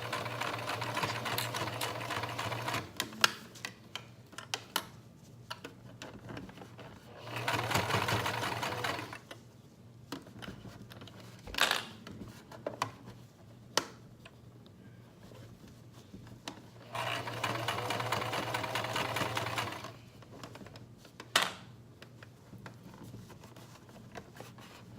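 Sewing machine stitching a stretched leg band, running in several sustained bursts of a few seconds each, close and steady, separated by quieter handling sounds, clicks and pauses.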